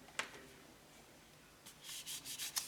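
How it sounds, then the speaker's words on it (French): Paper being rubbed on its back side while printing a strip for an Easter card, a soft brushing friction in several quick strokes, close and quiet, with no talking. "Je frotte un petit peu à l'arrière"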